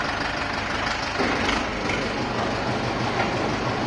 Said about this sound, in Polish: prędkość obrotowa nie zmienia się silnika, a prędkość wałka nam rośnie